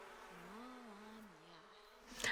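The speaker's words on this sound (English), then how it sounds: "You are going to end up stung by these bees" Buzzing bees in The Sims video game, a steady wavering drone that rises and dips in pitch for a couple of seconds, fairly faint, ending with a brief brighter burst.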